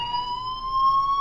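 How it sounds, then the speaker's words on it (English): Fire alarm in the video game Life is Strange, a steady sustained electronic tone holding a constant pitch, loud and continuous with no voices. "Do you hear that fire alarm? That means you should be outside."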